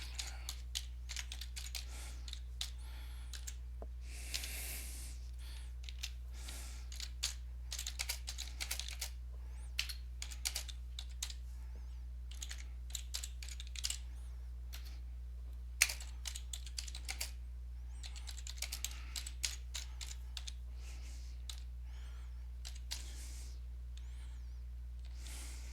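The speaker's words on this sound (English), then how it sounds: "Let me go ahead and type something." Someone types on a computer keyboard for a long stretch, a steady close patter of key clicks over a constant low electrical hum, with no talk.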